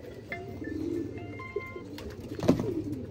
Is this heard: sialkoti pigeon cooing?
yes